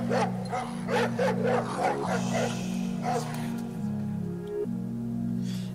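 Dogs barking and yipping repeatedly over a steady droning music track, the barks sharp and rhythmic against the low hum.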